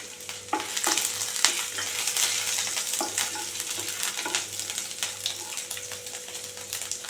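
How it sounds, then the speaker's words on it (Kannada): Fresh ginger and garlic frying in hot oil for a vegetable Manchow soup, a continuous close sizzle with scattered stirring scrapes and clinks, steady and fairly loud. "ಇವಾಗ ಎಣ್ಣೆ ಕಾದೈತಿ. ಇದ್ರೊಳಗೆ ಹೆಚ್ಚಿಟ್ಕೊಂಡಂಥ ಹಸಿ ಶುಂಠಿ ಹಾಕತ್ತೀನಿ, ಬೆಳ್ಳುಳ್ಳಿ ಹಾಕಿದೆ"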